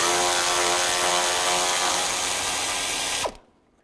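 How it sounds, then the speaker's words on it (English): A ratchet with a 10mm socket loosens a hold-down bolt on the transmission cooler of a 2006-2011 Cadillac DTS, a rapid continuous clicking close up that stops abruptly near the end. "We're going to remove this hold down bolt for the transmission cooler. Use a 10mm socket."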